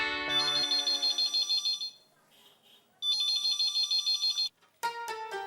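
A phone rings in repeated electronic pulses, pausing briefly between bursts, followed by a short different tone at the end.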